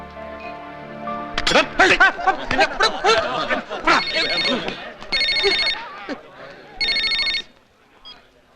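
A telephone rings in repeated bursts, a bright electronic trill heard under and between lively talk from people in the room.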